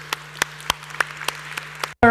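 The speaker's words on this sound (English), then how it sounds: "A round of applause." Steady, evenly spaced handclaps ring out at a conference session of an economic forum in Chișinău, crisp and fairly close over a low electrical hum, before a voice starts speaking at the very end.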